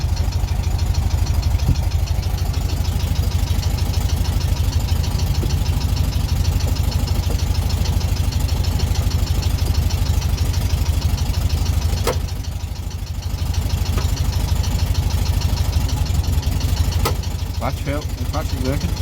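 A vehicle engine runs at a steady idle throughout, loud and close, its low rumble continuous with a brief dip partway and a few clicks near the end; speech is present beneath it.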